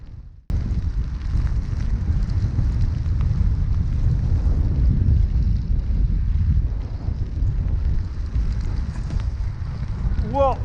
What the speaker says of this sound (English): And it's getting windy as forecast.